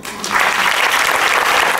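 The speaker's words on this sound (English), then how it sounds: "Give her some applause." Studio audience breaks into steady, loud applause at a mind-reading stage show, swelling quickly after a brief quiet start and holding a dense clapping wash to the end.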